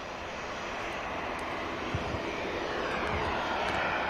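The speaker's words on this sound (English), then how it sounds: "You can also hear the props from the Logan Air heading out to the Isle of Man" Logan Air turboprop propellers heading out toward the Isle of Man from Manchester Airport, a steady broadband engine drone at moderate distance that holds fairly even throughout, with no voices.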